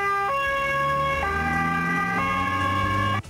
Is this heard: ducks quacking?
no